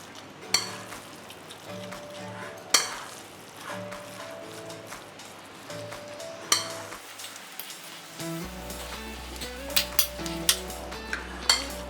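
Spiced minced meat (keema) is stirred in a pot, with metal spoon scrapes and clinks over a soft steady sizzle, close up and without speech.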